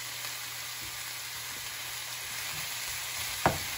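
Beef sizzles steadily in a pan for kaldereta, a close, even frying hiss with a single brief clank near the end.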